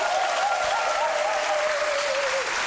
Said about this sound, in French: on démarre avec Aloucène que je vous demande d'applaudir.